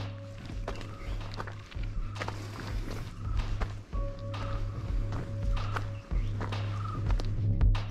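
Footsteps on a forest trail of the beach trek from Belekan to Gokarna Main Beach in Karnataka, steady and evenly paced close by, with faint bird chirps in the quiet background.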